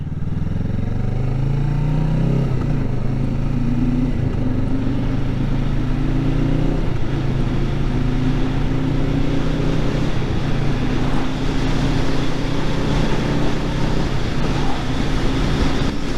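Motorcycle accelerating at low RPM, engine held in the 3,000 to 4,000 range as it shifts up through several gears, a steady moderately loud drone with wind rumble and no talking.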